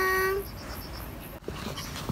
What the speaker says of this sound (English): I don't know whose little doggy you are.